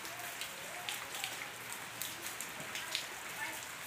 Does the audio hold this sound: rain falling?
yes